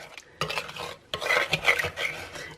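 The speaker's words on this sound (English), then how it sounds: "we'll pour the cream over and get working straight away, mixing to help melt all of that chocolate" Hot cream being stirred into chopped chocolate in a bowl, a utensil scraping and clinking against the bowl in bursts of close, busy mixing with short pauses between strokes.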